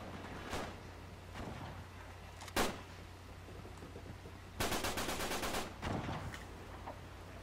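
Gunfire in Uncharted 3 multiplayer: a few scattered single shots, then a dense automatic burst of about a second, fairly faint and distant.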